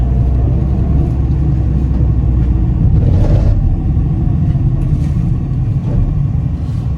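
Cars driving along a road in Saudi Arabia where vehicles make U-turns, a loud continuous engine rumble and tire roar from close passing traffic, with no talking.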